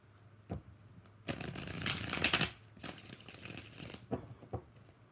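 Two bursts of riffle shuffling with a Rider-Waite tarot deck, crisp rapid flutters of cards, close and fairly quiet, separated by a short pause with softer card handling around them.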